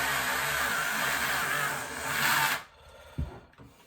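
A steady high-pitched whirring grind of small spinning slot car tyres against sandpaper, continuous for a few seconds before cutting off abruptly, followed by a faint click.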